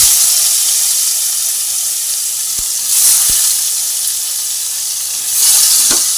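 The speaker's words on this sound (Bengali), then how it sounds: "তেল গরম হয়ে গেছে এবার এক এক করে আমি বেগুনগুলোকে দিয়ে দিচ্ছি" Eggplant pieces dropped one by one into hot oil in a kadai, frying with a loud, steady close-up sizzle and hiss, with a few sharp pops and swells as more pieces go in.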